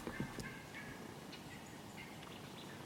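Wild turkeys gobble in the morning outdoors, a few faint, distant rattling calls rising from a quiet, airy background.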